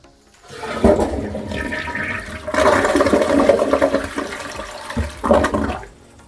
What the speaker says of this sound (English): Now we're going to do a test flush and look for any kind of leaks.